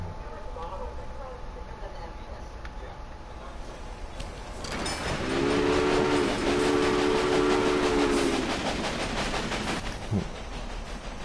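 A steam locomotive in the Railway Empire video game sounds a long two-note whistle in two blasts over steady rumbling train noise that swells and fades.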